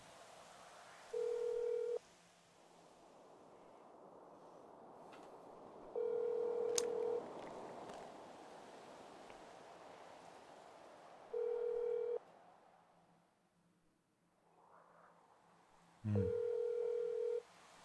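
In the GTA 5 video game, a phone call rings out unanswered, with four evenly spaced electronic ring tones separated by long quiet gaps.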